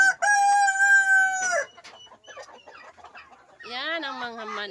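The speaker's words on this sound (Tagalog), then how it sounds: "Yan ang mga manok." A rooster crows loudly and close at the start, then heritage chickens cluck in short scattered bursts before another drawn-out crow at the end, a farm flock in Mindanao.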